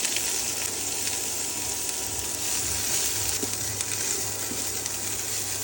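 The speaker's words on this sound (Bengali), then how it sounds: "হালকা একটু সবজিটা ভেজে নিব।" Vegetables fry in olive oil in a home kitchen, giving a soft, steady sizzle and crackle throughout, with faint stirring and no talk.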